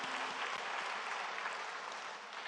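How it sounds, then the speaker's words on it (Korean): Dense, even applause fills a Korean church worship service after a closing prayer. The clapping is sustained and fairly soft and keeps steady throughout, with no speech over it. "우리 하나님께 영광의 박수 올려드립니다"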